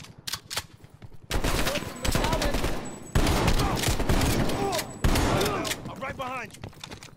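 Rapid, loud volleys of machine-gun and rifle fire ring out in Call of Duty: Cold War, in repeated dense bursts, while voices talk and call out over the shooting.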